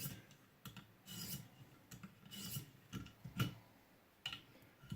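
Knife sharpening strokes on a recurve blade with a ViperSharp sharpener, a series of quiet irregular raspy rubbing and scraping strokes with faint clicks, close and soft with no talk.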